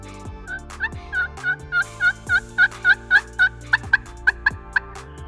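A wild turkey gobbles repeatedly in a rapid series of short calls, distant and clear in an outdoor setting with no talking.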